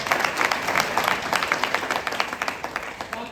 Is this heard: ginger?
no